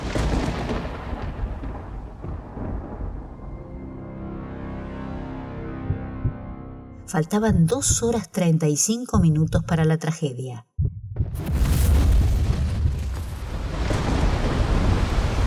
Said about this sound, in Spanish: dando paso a una tormenta eléctrica con intensos relámpagos y truenos